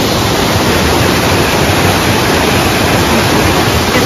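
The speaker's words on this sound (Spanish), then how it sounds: "cómo aprovechan la fuerza del agua y han colocado aquí, bueno, colocaron hace ya mucho tiempo estos molinos" Loud, steady rush of water pouring through old water mills on a river, a dense unbroken roar filling the whole stretch with no voices.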